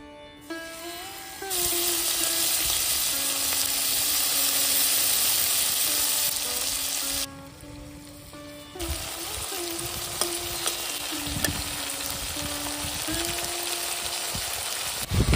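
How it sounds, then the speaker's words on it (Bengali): Prawns frying in hot oil for chingri malai curry, a loud continuous sizzle that swells and dips briefly midway, with occasional clinks and stirring over a faint tonal hum. "বাকি মাছগুলো ভেজে নিচ্ছি।"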